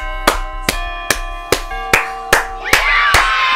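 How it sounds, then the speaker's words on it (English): Eight sharp claps in a steady rhythm over sustained tonal music from the game Five Nights at Freddy's 2, growing slightly louder toward the end. "clap it up, boys"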